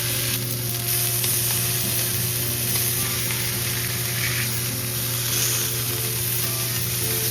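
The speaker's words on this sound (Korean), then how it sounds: "프라이팬에 올리브유 두른 후 마리네이드 된 소고기의 육면을" Marinated beef sears in olive oil in a frying pan, a loud, steady, dense sizzle that holds without pause from start to finish, close and continuous, with no talking.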